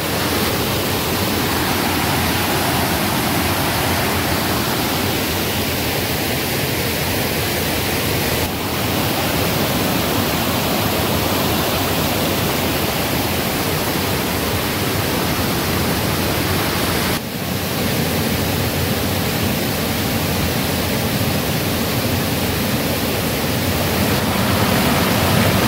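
Strong rushing water pours through a small dam at a hidden spot in the Konkan countryside, a steady, loud, unbroken roar of foaming water that stays close and dense for the whole stretch, with no voices over it.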